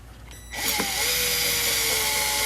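A reamer boring out a hole in a Hermle 1051 020 triple chime mantle clock movement: a steady, close, high whirring grind that starts abruptly and holds evenly to the end.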